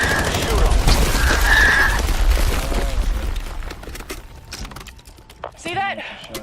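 Gunfire in Call of Duty Black Ops 7 as vine growths are shot, a cluster of sharp mechanical bangs and rattles in a dense game mix, loud at first and fading, ending with voice-like sounds.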